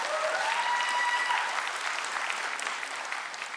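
An audience at a career and technology center graduation ceremony breaks into sustained applause for the graduating seniors, a dense, even wash of clapping that fades slightly toward the end.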